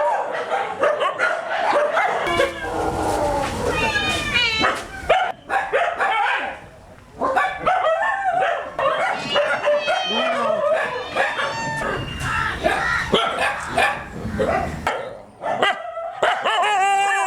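Dogs bark and yelp repeatedly at an animal shelter that houses dogs and cats, with high whining, meow-like cries mixed in. The calls are close, dense and overlapping, and continue almost without pause.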